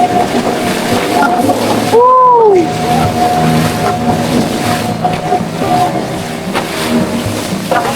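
Boats run on the sea near Vengurla Rock lighthouse, with a loud steady motor drone, rushing water and wind buffeting, plus a brief rising whistle-like tone; faint voices mix in.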